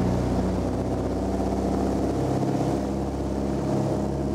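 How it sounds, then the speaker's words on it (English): The engines of a vintage de Havilland Dragon Rapide biplane rev for a takeoff roll, a steady, droning roar with low harmonic hum, continuous and loud throughout, with no voices. "You can hear the sound of the engines now as they rev right up"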